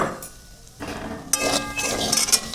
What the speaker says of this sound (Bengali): এরপরে আমি ঢাকাটা খুলে দিচ্ছি।